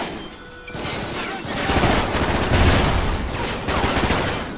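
Heavy automatic gunfire in Call of Duty Ghosts, a dense roaring stream of shots that swells and stays loud for several seconds, with a voice speaking faintly beneath.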